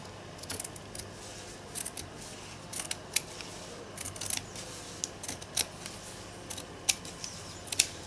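Scissors snip repeatedly and crisply up close, cutting off a bit of a branch weaving in a series of irregular clicks over a low, steady room hum.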